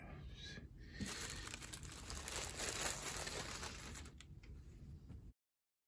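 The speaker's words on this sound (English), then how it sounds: "Just wanna open it real carefully and keep the plastic" Soft, close crinkling of plastic packaging as a Supreme Emilio Pucci box logo tee is carefully unwrapped, a quiet continuous rustle that stops abruptly at the end.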